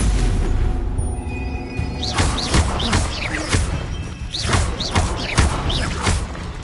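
Hogwarts Legacy spellcasting in combat: repeated whooshing bursts and thuds as a Stupefy stun spell and others fire, several sharp impacts in quick succession over a busy game background.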